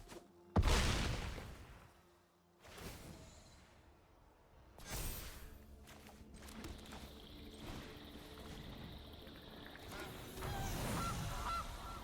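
A cartoonish goose honks loudly as the Gilded Goose card enters play in MTG Arena, followed by game whooshes and chimes with no talking.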